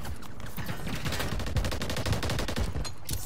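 Rapid gunfire from a Call of Duty match, dense bursts of automatic shots crackling continuously and loudly for the whole stretch, with no talking over it.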